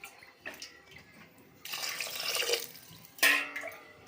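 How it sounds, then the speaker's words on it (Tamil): Water is poured from a cup into lentils in a pressure cooker, giving short splashy bursts: a brief trickle, a longer rushing pour, then a sharp final splash, close and fairly quiet. "4 கப்பு தண்ணி ஆட் பண்ணிக்கலாம்."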